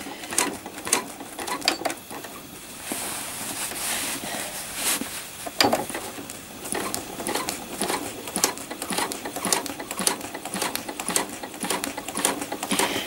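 An old domestic sewing machine stitching a trapunto quilt gives a close, steady, rapid run of needle clatter with a few brief dips in pace and no talking.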